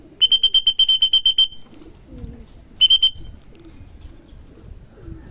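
Racing pigeons arriving home at the loft after a 92 km race, with a loud rapid run of sharp electronic beeps as birds land, then a short second burst over quiet background.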